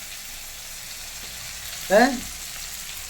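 Tomatoes fry in a mustard-paste curry, a faint, even sizzle running underneath, briefly interrupted by a short spoken word.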